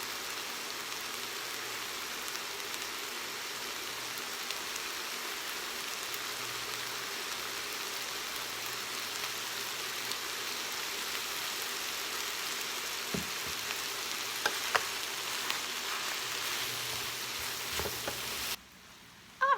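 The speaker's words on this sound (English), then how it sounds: "I'm just cooking it just to get the cabbage to where it's wilted down a little bit" Shredded cabbage with soy sauce sizzles in a hot pan, a steady close frying hiss with faint crackles and stirring sounds, running unbroken with no talking until a brief drop near the end.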